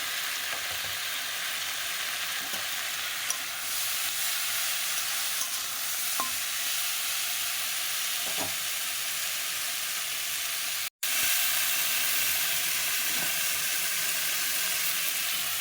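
Data stalks sizzle steadily in hot oil in a home kitchen as chili and turmeric powder go in, a continuous close frying hiss with a few light clinks and a short break near the end.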